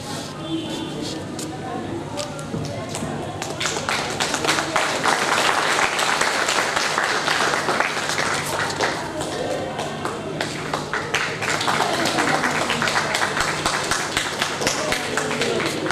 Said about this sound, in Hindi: हम लोग ताली बजाते हैं